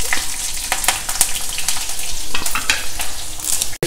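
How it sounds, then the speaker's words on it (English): Urad dal, chana dal, cashew nuts and dry red and green chillies stir-fry in hot oil, giving a close, continuous crackling sizzle with the scrape and clatter of a spoon moving through the pan. "Stir fry all of them together till the dals are a golden brown color."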